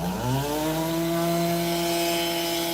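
A rotary tool grinds into a Hot Wheels car with a plastic base and metal body, giving a loud, close, continuous whine whose pitch climbs as the motor spins up and then holds steady, with no voices.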